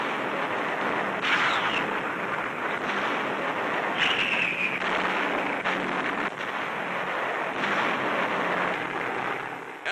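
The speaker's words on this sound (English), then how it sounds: "Bombardiers dropped 500 heavy bombs on enemy installations on Palawan Island." Heavy bombs explode on enemy installations on Palawan Island in wartime newsreel footage, with a dense, continuous roar of blasts and rumbling and a faint high whine over the noisy recording.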